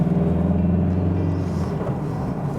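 A Mazda CX-3 with a 1.5-liter 105-horsepower diesel engine drives along, its steady low engine rumble and road hum continuous and close throughout.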